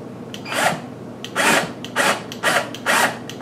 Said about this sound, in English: So I'll just tighten the screw down